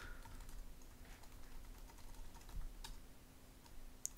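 Fast, light keystrokes on a computer keyboard, with a terminal update command being typed on a Manjaro Linux system; soft, irregular clicks over steady background hum, with one sharper tap near the end.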